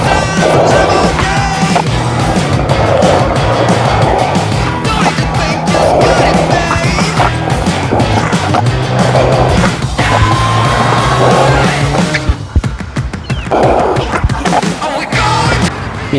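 Skateboard rolling continuously on new Ricta wheels and a new board, a steady loud close-up roar of wheels on pavement with occasional knocks and clacks, no talking.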